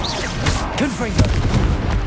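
A Confringo spell explosion in Hogwarts Legacy, with dense, rumbling booms and bursts packed close together amid busy combat noise, and voices shouting over it.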